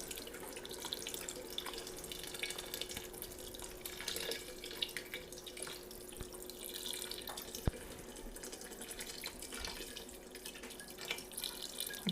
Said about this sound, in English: Then you're gonna put about 3 cups of broth in there.